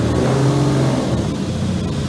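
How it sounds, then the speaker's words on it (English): A 1955 Jaguar D-Type racing car engine roars loudly and steadily at close range, a dense mechanical growl with no voices over it. "1955 Jaguar D-Type. Oh, listen to that."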